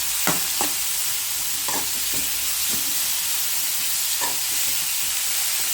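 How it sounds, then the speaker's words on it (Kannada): Mushrooms sautéing in a pan for mushroom gravy: a continuous close sizzle and hiss broken by several sharp scraping stirs of a spoon against the pan at uneven intervals. "ಇದನ್ನು ಇದರಲ್ಲೇ ಹೀಗೆ ಬಾಡಿಸ್ಕೋಬೇಕು."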